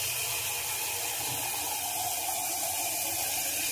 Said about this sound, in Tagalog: Ayan tayo sa gripo.